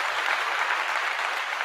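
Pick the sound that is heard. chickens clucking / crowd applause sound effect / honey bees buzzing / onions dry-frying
crowd applause sound effect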